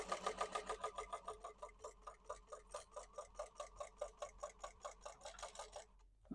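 A sewing machine stitches a purse seam in a rapid, steady run of close mechanical ticks that stops abruptly near the end, with no voices.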